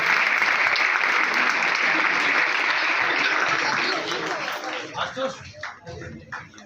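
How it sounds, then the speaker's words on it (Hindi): A crowd applauds at a chemistry classes prize distribution ceremony, dense sustained clapping that fades out over the last few seconds into scattered claps and murmuring. "मैं चाहूंगी तालियां रुकनी नहीं चाहिए"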